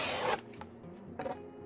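Scissors snip a tiny piece off a paper pull tab in a journal, a faint close rasping cut followed by a few soft paper rustles in a quiet room.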